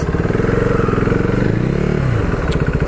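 KTM RC390 motorcycle on a test ride, its single-cylinder engine thumping loud and close with a brief rev rise and fall in the middle, wind noise throughout and no talk.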